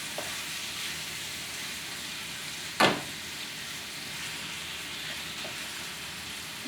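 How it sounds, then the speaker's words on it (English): Onions and garlic sautéing in a pan for shrimp fried rice, a steady soft sizzle with one sharp clatter partway through, no talking. "saute down with the onions and the garlic"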